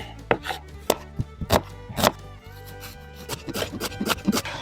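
An onion is chopped into cubes with a knife on a board, making sharp close knocks in an irregular run of strikes, some quick doubles and a scraping pass between them, with no speech.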